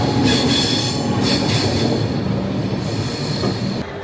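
A passenger train rolls along rails in the hills of South India on the way to Mysore, a loud continuous rumble close by with high metallic wheel squeal running through it and no talk.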